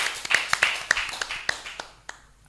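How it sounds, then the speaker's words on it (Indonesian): A small scattered round of applause, with several sharp hand claps in loose rhythm, close and moderately loud, thinning out toward the end. "Tepuk tangan, Cah."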